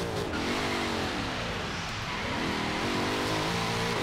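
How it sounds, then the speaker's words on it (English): Car doing a burnout in the racing game Forza Horizon 3, a loud, continuous engine roar with wavering pitch and screeching tyres throughout, steady and close. "That's a burnout."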